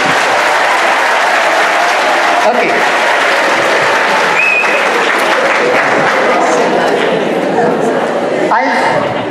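A crowd at a memory management programme session in Bijanbari, Darjeeling, applauds loudly and continuously for several seconds, a dense roar of many hands with brief voices breaking through.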